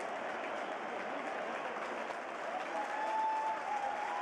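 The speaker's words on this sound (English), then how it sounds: "I can't tell if that's a Brazilian crowd cheering." A Brazilian football crowd cheers and applauds, a dense, steady roar of many voices and clapping that swells slightly toward the end.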